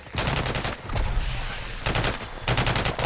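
Bursts of automatic gunfire in Call of Duty come in three rapid volleys separated by short gaps. They sound fairly close and loud over the game's background noise.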